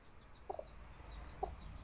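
A hen clucking softly in a backyard coop with chicks, two brief pairs of low clucks over faint background noise, with small chick peeps in between.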